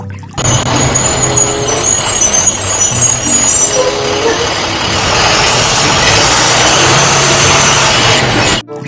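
A toy school bus plays loud electronic vehicle effects: a truck-like engine rumble with a hiss like an air brake, running continuously and up close.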